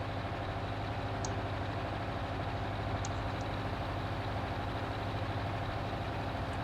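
A tractor engine idles steadily in Farming Simulator 19, a constant low rumble with a droning hum, plus a few faint high clicks.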